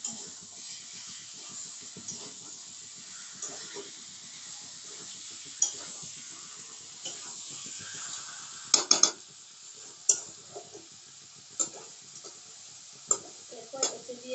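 Chicken curry is stirred in a pan with oil, a soft continuous sizzle under scattered scrapes and clinks of the spoon against the pan, with a few sharper metallic knocks.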